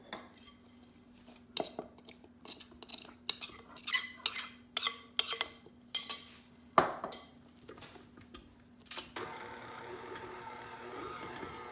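Gingerbread dough being mixed with dry ingredients in a bowl, a rapid run of knocking, scraping strokes, then quieter, ending in a soft steady hum, close and fairly faint.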